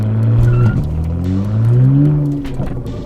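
A BMW N54 car launches hard from standstill with its tires spinning, the engine revving loudly and climbing in pitch, then easing off at the end. Close, loud and dominant throughout.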